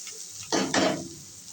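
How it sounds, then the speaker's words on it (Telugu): Soya chunks (meal maker) frying in a pan with oil, a soft steady sizzle broken by two louder bursts of stirring and scraping, close up with no talk. "చూడండి, మంచిగా ఫ్రై అవుతుంది."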